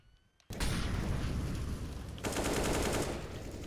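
Loud, sustained automatic gunfire in a first-person shooter, a dense unbroken burst of shots starting abruptly after a quiet half-second and rolling on to the end.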